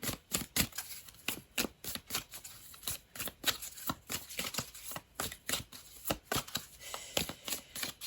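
A deck of tarot cards being shuffled, a run of quick crisp riffling flicks repeating in short bursts, close and fairly quiet, with no voices.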